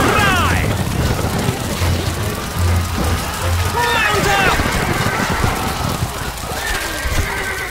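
In Stronghold Crusader HD, several horses whinny and neigh over a dense patter of hooves and rain-like noise, with voices mixed in beneath the loud clatter.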